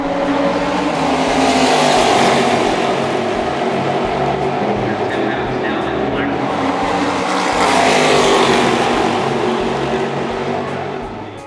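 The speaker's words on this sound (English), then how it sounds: "you could immediately hear that V8 exhaust note as it roared down the front straightaway" A Cadillac CTS-V race car with a V8 exhaust roars down a track's front straightaway, a loud, continuous engine note that swells, eases and swells again over a noisy racetrack crowd.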